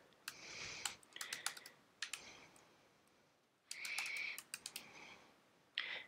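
Fingers type on a computer keyboard in quick, close clusters of crisp key clicks, separated by short quiet gaps, with a few isolated taps at the end.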